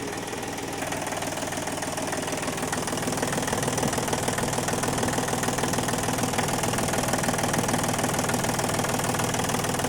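An Iseki LandHope-200 tractor's diesel engine idles steadily and close by, a low rumbling knock with constant mechanical vibration throughout, no voices.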